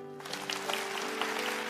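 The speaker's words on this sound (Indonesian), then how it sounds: "yang percaya kasih tepuk tangan" Church congregation giving a burst of applause, a steady wash of many hands clapping with a sustained tone running underneath.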